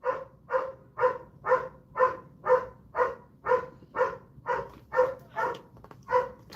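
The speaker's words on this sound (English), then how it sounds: "That's the neighbor's dog." A neighbour's dog barks steadily and repeatedly, about two barks per second in an even rhythm, at moderate distance with no talking over it.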